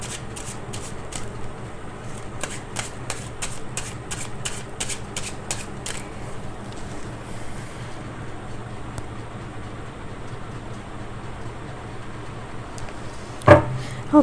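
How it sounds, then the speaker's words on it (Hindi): Tarot cards being shuffled, a rapid series of crisp riffles in the first few seconds, then quieter handling under a steady background hum, with no talking. "शफल कर रही हूँ कार्ड्स को"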